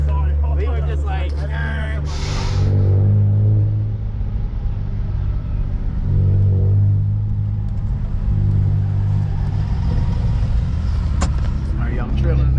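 Tuned 2007 Saab 9-3 2.8 heard from inside while cruising, a steady low engine rumble with swells in revs, continuous and close, with people talking over it.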